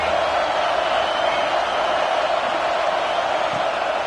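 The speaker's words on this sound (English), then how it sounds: "how nice is it to have the home crowd going absolutely bananas" Home crowd at a Tennessee Volunteers college football game roaring in a loud, continuous wash of cheering that holds steady throughout, with no distinct voices standing out.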